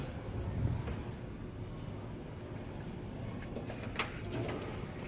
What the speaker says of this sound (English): I feel like I could tip it all over just trying to open the drawer.